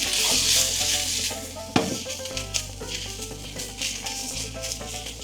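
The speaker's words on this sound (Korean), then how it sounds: "넣고 야채 넣고 센 불로 볶아주세요." Sausages and vegetables stir-fry over high heat in a cast iron pan, giving a loud continuous sizzle broken by scraping stirs and a sharp clatter early on, with no voices.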